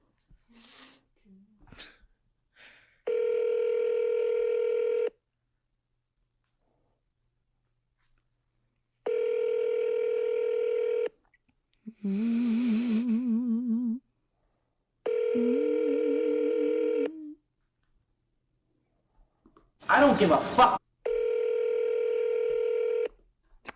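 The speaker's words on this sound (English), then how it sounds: "I wish he'd pick up the phone." A phone calls out to Jude, producing a series of long, even ringback tones separated by silences, with speech and a sneeze-like burst falling in the gaps between rings.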